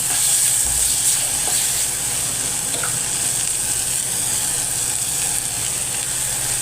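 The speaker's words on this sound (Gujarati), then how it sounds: "હવે બધી વસ્તુ સરખી રીતે હલાવી લઈએ" Turmeric and red chili powder stirred into a pan for vegetable Maggi, a steady close sizzle of frying with scraping stir strokes running throughout, no voices.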